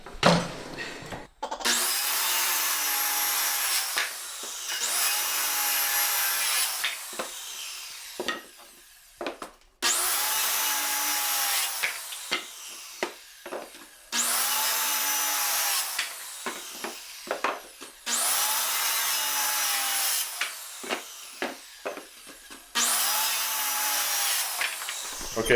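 Hand saw cutting through a 2x6 wooden board while building a step stool, five long bursts of steady rasping strokes separated by short pauses and light knocks, close and loud with no talk.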